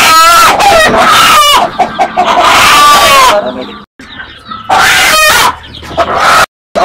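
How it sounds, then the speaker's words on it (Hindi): A Kadaknath rooster on a chick farm clucks loudly up close, then lets out strained crowing calls in bursts, with brief pauses and sharp handling noises between them. "एक कड़कनाथ का मुर्गा मैं आपको दिखा देता हूँ"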